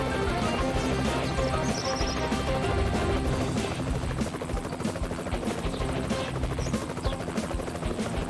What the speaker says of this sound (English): Help Sky use her helicopter to rescue the citizen and get them to safety.